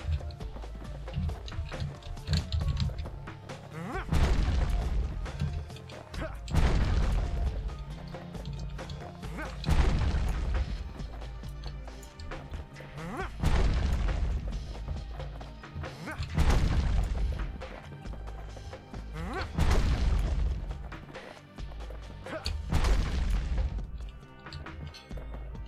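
Repeated heavy smashing and breaking impacts in the action video game Bastion, a series of loud booming crashes landing every two to three seconds over a rumbling backdrop.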